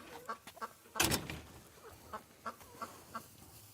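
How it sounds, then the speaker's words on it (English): Chickens cluck in short, scattered calls at moderate distance, with one louder burst of flapping or squawking near the start. "All the chickens."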